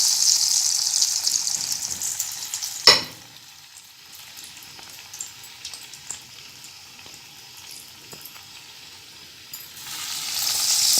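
Breadcrumb-coated fish pops dropped into a pan of hot oil, a bright sizzle that flares with a sharp splash, dies down to a quieter crackle with small pops, then swells loudly again near the end.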